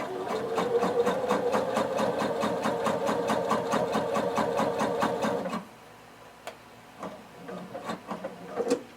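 A home sewing machine runs a long basting stitch through fabric for shorts or pants, giving a steady rapid mechanical whir with regular needle clicks for about five and a half seconds. It then stops, leaving faint handling clicks and taps.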